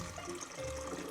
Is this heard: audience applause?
no